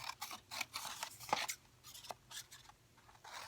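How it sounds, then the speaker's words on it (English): Scissors snip through paper for a handmade journal, a series of close, quiet, crisp cuts in an irregular rhythm. "I'm going to use the scissors"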